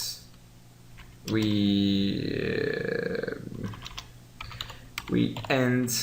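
Quick clicks of typing on a computer keyboard, partly covered by a loud, low, droning voiced sound for several seconds.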